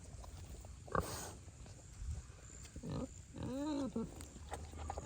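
Faint grunts and squealing oinks from little pigs, a few short calls and a wavering squeal over low background noise.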